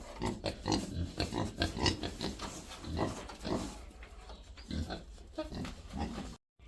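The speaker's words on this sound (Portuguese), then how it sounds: "Aqui é o chiqueiro. Temos nossos porquinhos aqui." Pigs in a pigsty on a small farm grunt nearly nonstop in quick, overlapping snorts, close and fairly loud, cutting off abruptly at the end.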